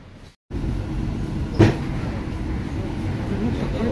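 Low, steady rumble of a moving Hitachi train in Italy heard from inside a carriage, after a brief quiet gap, with a single sharp knock partway through.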